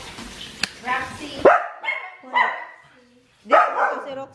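Dogs barking at home, several close loud yips and barks in irregular bursts, with a person talking between them.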